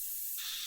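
Thinner sprayed through a paint spray gun during cleaning, a steady faint airy hiss that brightens and strengthens partway through the short burst.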